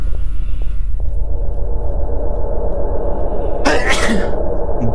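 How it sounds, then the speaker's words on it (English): A big, loud sneeze bursts out near the end of a steady, rumbling indoor background during a scary Halloween game, heard alone with no talking. "Big sneeze again"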